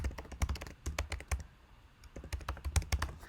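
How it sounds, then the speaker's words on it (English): Someone enters an email address on a computer keyboard with quick bursts of close, crisp key clicks, a short pause in the middle, then another run of rapid taps. "you'll have to know my email and type it in here"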